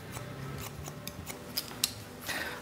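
Hair scissors snip repeatedly during a short women's haircut, a series of crisp close-up metallic clicks at an uneven rhythm over a quiet room background.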